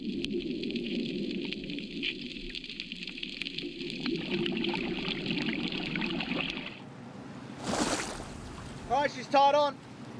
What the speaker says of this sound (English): I have to use the boat motors to achieve this.